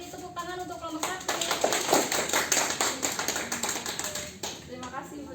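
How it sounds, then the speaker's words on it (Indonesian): Students in a classroom clap for a group of classmates, a brisk patter of hands building after a spoken line, quick and fairly close, with a voice talking over the end. "Kita beri tepuk tangan untuk kelompok 1."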